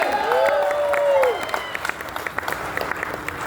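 Crowd clapping at a motivational business talk rolls on under a sliding whistle near the start, then thins into scattered claps as the applause fades.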